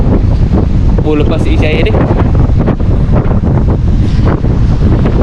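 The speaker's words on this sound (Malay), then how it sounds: "bunyi angin petang-petang ni" Strong evening wind buffets the microphone beneath a large sea bridge, with surf and lapping water mixed into a loud, steady roar. Someone talks briefly over it.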